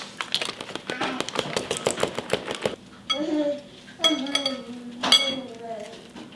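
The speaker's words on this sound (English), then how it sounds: "I'm gonna mix this salad up in a separate bowl because I love doing dishes." Salad being tossed in a separate bowl, with rapid clinking and tapping of utensils against the dish for several seconds, then quieter scraping and a few louder clinks, close by; a voice speaks briefly over the later part.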